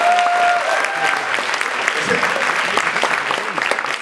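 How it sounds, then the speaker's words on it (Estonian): An audience at a concert of beloved film songs breaks into dense, sustained applause, loud and close, with a brief held tone at the start and faint voices mixed into the clapping. "Teeme Eesti mängufilmil ka aplausi."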